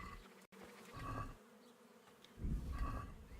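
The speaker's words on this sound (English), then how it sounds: "Bees. Put some bees in my pockets." Bees buzz in a close, wavering drone that swells and fades, with no voices.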